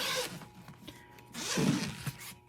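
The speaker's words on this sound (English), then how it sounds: "Unzip it." Zipper on a fireproof, waterproof folding storage ottoman with lock and handle being pulled open, a soft rasping run that swells louder midway through, close and alone with no talk.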